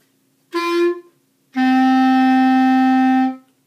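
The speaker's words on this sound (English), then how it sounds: "So the low D would just be simply a G and a D." A clarinet plays two notes alone: a short G, then a brief pause, then a long, steady low D held for almost two seconds before fading out.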